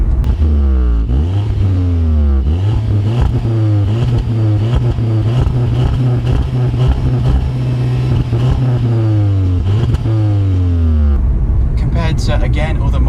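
Audi S1 engine revving up and down repeatedly with rising and falling pitch, a fairly subdued stock exhaust note heard up close over the full length, a brief different burst of noise near the end.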